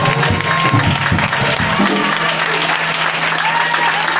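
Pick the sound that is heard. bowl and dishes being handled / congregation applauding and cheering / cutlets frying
congregation applauding and cheering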